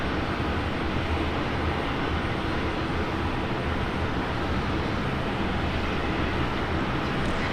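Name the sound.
Jetstar jet airliner taking off from runway 19 right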